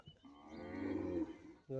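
A buffalo being herded lets out a long, low moo that swells and holds for over a second, close by, followed by the start of another call.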